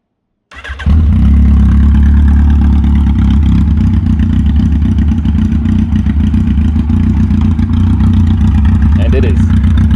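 A Yamaha XJR 1300 motorcycle running with its exhaust removed fires up after a brief silence, then holds a loud, raw, steady idle with a deep rumble and mechanical clatter for the rest of the stretch.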